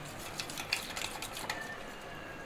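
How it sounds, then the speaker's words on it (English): Spoon stirring corn flour into a cold coffee mixture in a cup, giving light clinks and soft scraping over a steady faint hiss, close and quiet, with no voices. "And now I'm going to mix it nicely."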